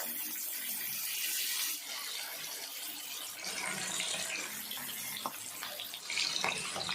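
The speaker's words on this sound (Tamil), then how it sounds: "இப்போ மீன்களை சேர்த்துடலாம்" Sardines sizzle and crackle steadily in hot oil as they fry in a pan, coated only in spice masala and without flour, a dense close hiss with occasional sharper pops and no talking.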